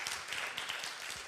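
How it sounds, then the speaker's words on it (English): An audience claps steadily at a film screening event, giving a dense, continuous patter of many hands at a fairly low level throughout. "he hears you, so we can clap, definitely"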